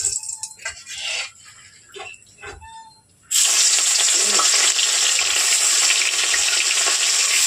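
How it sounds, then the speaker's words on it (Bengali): Fish with a little salt dropping into hot oil: after a few seconds of quiet clatter and handling, a loud sudden sizzle bursts in and holds steady, close and continuous. "মাছটা ভেজে নেবো, দিয়ে দেবো একটু নুন"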